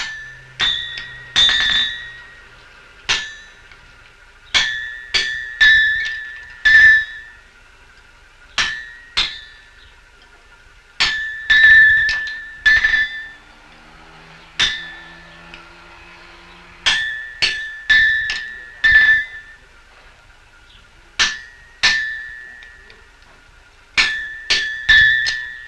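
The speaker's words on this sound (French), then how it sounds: "au poinçon, il élargit les trous de clous qui n'existent que sur un côté du fer" Blacksmith driving a punch through the nail holes of an ox shoe in 1975 Frasnes-lez-Buissenal, loud ringing metallic strikes in irregular groups of two to four, each blow leaving a bright clanging ring, with short pauses between bursts.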